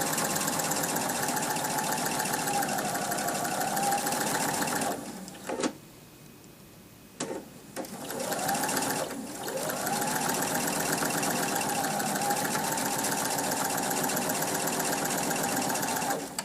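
A sewing machine stitches double wedding ring quilt pieces in steady, rapid mechanical runs, stopping briefly midway with a few clicks before resuming at a constant close hum.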